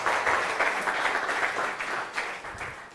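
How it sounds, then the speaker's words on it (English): An audience applauds continuously for speakers at a panel event on the global food crisis, the dense clapping staying fairly loud and even throughout without letting up. "Let's give them a round of applause"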